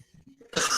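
A single sharp cough bursts out near the end, loud and close, after a brief stretch of quiet breathing and faint low murmur.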